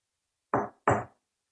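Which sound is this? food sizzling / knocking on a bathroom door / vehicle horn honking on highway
knocking on a bathroom door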